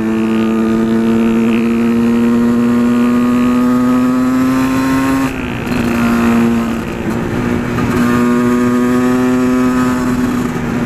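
A Yamaha WRX 125 motorcycle with an Arrow exhaust riding past at speed, a loud buzzing engine tone that holds steady, dips briefly as the revs shift, then climbs again.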